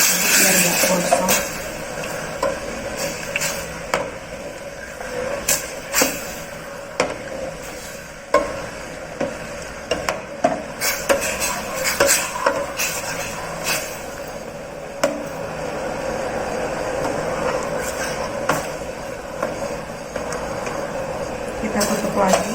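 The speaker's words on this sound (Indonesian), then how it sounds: "Ini udah mendidih ya, sambil diaduk biar nggak gosong." A utensil stirs a boiling sugar mixture in a pot for sweet pearl porridge, making repeated clanks and scrapes against the metal over a constant bubbling hiss.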